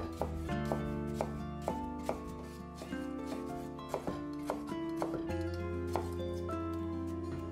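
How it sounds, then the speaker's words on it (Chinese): A knife chops peeled carrot into chunks and young ginger into fine bits on a board, with steady close taps under louder background music and no talking. "红萝卜削皮后也滚刀切成块， 嫩姜切成末"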